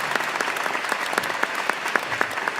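A church congregation claps in a fast, even rhythm while acclaiming Jesus, the crisp claps sounding moderately near and continuous with no talk over them.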